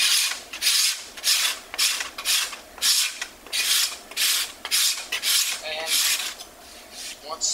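A glued repair of a check in wood sanded by hand, long rhythmic rasping strokes back and forth, loud and close, about a dozen passes in steady succession.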